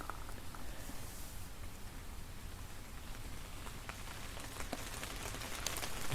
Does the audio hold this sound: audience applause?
no